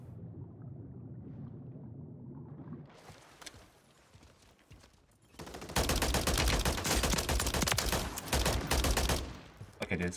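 A Holger 556 rifle fires in Warzone 3, starting with scattered shots and swelling into dense, loud, sustained bursts over rumbling battlefield noise in the second half.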